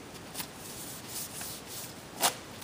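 A leg wax strip is rubbed against skin and ripped off, giving soft broadband rubbing with brief sharp tearing bursts, the loudest near the end, close and fairly quiet with no talk.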